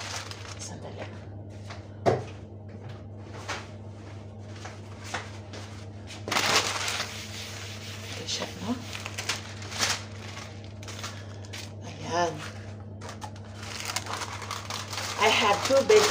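Sheets of baking paper crinkle and rustle as they are handled in a home kitchen while preparing a meat roll, with scattered crackles and a burst of crumpling midway, all close and moderately loud over a steady low hum.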